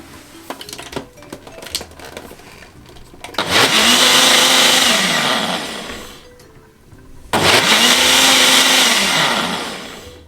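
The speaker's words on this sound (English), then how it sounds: "we're going to give it another one for another minute, just to get it really smooth" A blender runs in two loud bursts blending jackfruit with oats for a thick punch, each starting sharply and whining steadily before easing off, with faint clatter and handling sounds before the first run.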